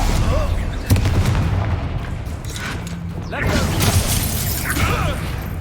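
A Confringo fire-blast spell explodes in the Hogwarts Legacy video game, landing as loud booming bursts amid continuous dense combat noise and clattering effects.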